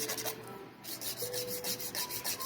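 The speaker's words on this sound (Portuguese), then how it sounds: "Dou aquele lixamento para afunilar a nossa almond." Nail file rasping against an acrylic nail to shape it into an almond tip, a steady run of quick back-and-forth rubbing strokes heard close up, with a short pause near the start and no talking.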